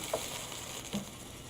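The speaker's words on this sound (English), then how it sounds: "the LNG is boiling off because the temperature of the water was a lot warmer than the liquefying temperature" Liquefied natural gas poured onto water and boiling off, a steady close hiss and fizz with faint crackles running throughout.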